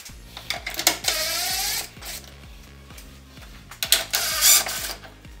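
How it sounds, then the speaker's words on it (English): Rapid ratchet clicking in repeated bursts, close and fairly loud, as a socket wrench backs out two 10mm bolts from the grille of a 2019 third-generation Toyota Tacoma; brief metallic handling noises sit between the bursts. "we're going to remove these two 10mm bolts"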